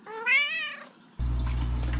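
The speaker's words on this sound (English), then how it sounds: "If you're happy and you know it, say meow." A cat gives one clear, rising-and-falling meow close by, followed by a brief pause and then a burst of low background noise.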